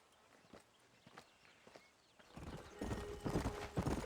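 Horse hooves clip-clop in the Red Dead Redemption video game. Steady walking hoofbeats start faint, then grow louder and closer halfway through as the ambience fills out, with no talking.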